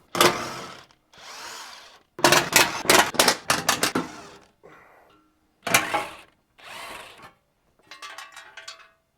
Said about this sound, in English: remove the factory skid plate with a 13mm socket